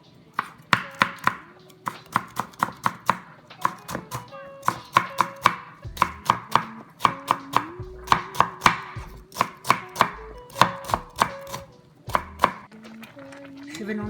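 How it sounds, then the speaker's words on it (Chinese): A knife chops cucumber into fine strips on a board, striking in quick, crisp, evenly spaced bursts that run steadily, close and loud, with short pauses between rounds. "然后呢，我们把黄瓜切成越细越好的丝"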